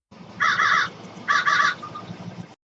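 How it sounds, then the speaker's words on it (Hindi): Crows caw loudly in two harsh, drawn-out bursts close by, with a faint shorter call trailing after. "उनके मुंह से भी कौवे की आवाज आने लगी।"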